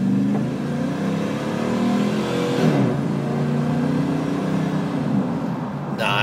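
A 2004 Dodge Ram pickup with the 5.7-liter Hemi V8 revving up hard and falling back, loud and close, with a sharp rising burst of engine roar and no talking over it.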